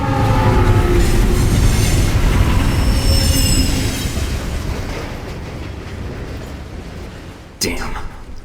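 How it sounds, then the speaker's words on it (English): A loud train in the video game Alpha Protocol roars by with squealing wheels and clattering cars, fading gradually before a sharp bang near the end. "I guess, when the train goes by."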